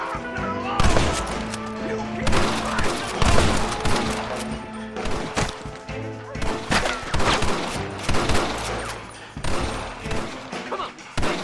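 Rapid gunfire in a Red Dead Redemption shootout, with repeated loud shots and volleys crackling over a dense battle bed for the whole stretch, while voices shout amid the din.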